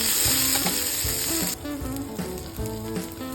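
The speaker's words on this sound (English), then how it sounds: "in the same pan, we heat 2 tablespoons of butter again. Add 1 teaspoon of garlic paste" Garlic paste frying in butter in a pan for honey-sugar baked chicken, giving a steady loud sizzle throughout with small stirring clicks, the hiss dropping slightly midway as the paste settles.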